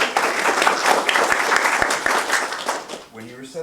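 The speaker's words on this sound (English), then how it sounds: "Let's applause for Beyond the Stars." Audience clapping for the creators of Beyond the Stars at a Play with Words event, a dense burst of applause that fades toward the end as a voice starts talking over it.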